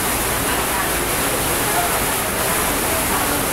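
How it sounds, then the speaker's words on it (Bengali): Heavy rain pouring down at an outdoor pigeon market, a dense, steady, loud hiss of water without any break, filling the whole short stretch with no distinct voices standing out. "প্রচুর বৃষ্টি হইতেছে।"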